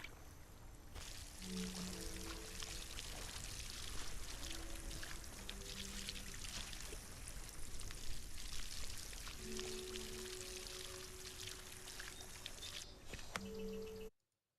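Water pours steadily from a watering can onto plants in the Solarpunk survival game, a continuous splashing stream lasting well over ten seconds with soft musical tones underneath, then cutting off abruptly at the end.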